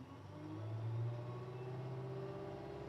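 Engine of a Wacker Neuson ST45 compact track loader heard from inside the cab revving up to 2,000 RPM, a low steady drone that swells briefly then settles into an even, fairly quiet hum.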